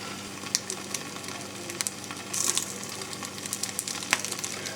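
Wild burdock and milkweed stir-fry sizzling in a pan, a steady frying hiss broken by sharp crackles and pops, with a brief louder burst of steam midway, heard alone.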